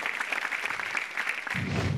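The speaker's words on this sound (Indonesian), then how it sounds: "Tepuk tangan untuk Oplet." Audience applause at a stand-up comedy show in Jakarta, a dense steady patter of clapping that swells louder near the end, with no talk over it.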